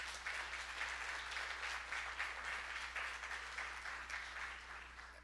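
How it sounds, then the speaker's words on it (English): A church congregation at a Sunday service applauding a singer, a steady, fairly faint patter of many hands clapping that thins slightly toward the end over a low hum. "if you guys wouldn't mind giving her a nice round of applause"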